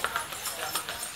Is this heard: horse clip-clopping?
yes